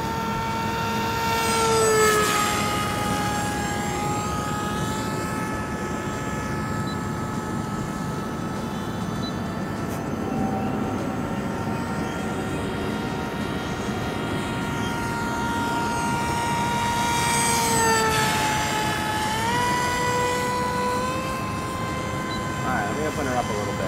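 A Flinch 37-inch FPV wing flies at about quarter throttle, its electric motor giving a steady whine with tones that rise and fall as it passes, heard continuously over wind, with no talking.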